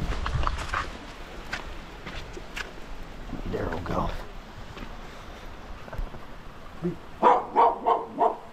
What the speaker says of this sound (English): Who are you barking at, Daryl?